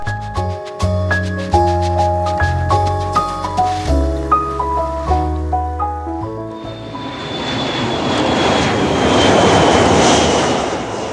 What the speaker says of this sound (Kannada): ಈ ಲೇ ಏರ್ಪೋರ್ಟಲ್ಲಿ ಪ್ಯಾಸೆಂಜರ್ ಏರೋಪ್ಲೇನ್ಗಳ ಜೊತೆಗೆ ನಮ್ಮ ಇಂಡಿಯನ್ ಏರ್ ಫೋರ್ಸ್ ಜೆಟ್ಗಳನ್ನು ನೋಡ್ಬೋದು